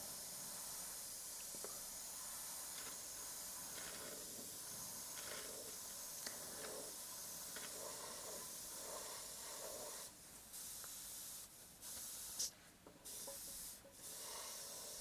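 Airbrush spraying paint over a chrome skull design, giving a steady, close, continuous hiss that runs almost unbroken for the whole stretch, with a few brief gaps and no talking.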